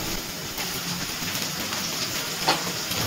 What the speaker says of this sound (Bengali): পেঁয়াজের সাথে টমেটোটা একটু তেলে নাড়াচাড়া করে ভেজে নিচ্ছি।